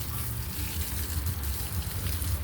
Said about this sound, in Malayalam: ഇങ്ങനെ ഇടക്കിടക്കൊന്ന് നനച്ചു കൊടുക്കുക